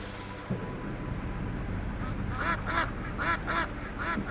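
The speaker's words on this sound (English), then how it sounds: "Ducks all over the place." Ducks in the video game Killing Time: Resurrected let out a run of repeated quacks in the second half, moderately loud over steady wind-like ambience.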